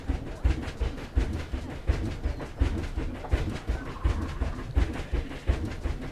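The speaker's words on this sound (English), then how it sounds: "We're coming up to the Arctic train station now." Train in Planet Zoo arriving at the Arctic train station, a steady clickety-clack of wheels over rail joints in a regular rhythm, close and moderately loud with no talk.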